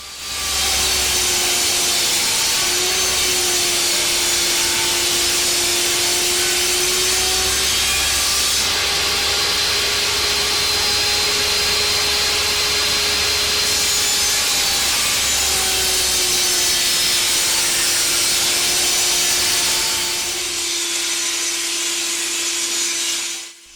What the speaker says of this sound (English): I'm using the jointer jig again as I true up my mahogany pieces.